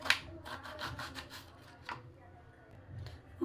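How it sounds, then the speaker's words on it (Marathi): Ridge gourd being grated coarsely by hand for a dry vegetable dish makes quick rhythmic rasping strokes up close, a steady burst of scrapes followed by a pause and a few scattered strokes. "आता मी दोडकी किसून घेणार आहे."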